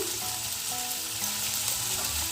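Spice paste frying in a pan for a fish head and banana flower dish, a steady close hiss of sizzling oil with faint scraping of stirring underneath, no voices.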